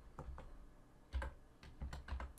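Quiet keystrokes on a computer keyboard come in short irregular bursts of clicks, close and soft, with brief pauses between clusters.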